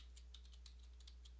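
Quick, light keystrokes on a computer keyboard, a dozen or so soft clicks in an uneven rhythm over a low steady hum, faint and close.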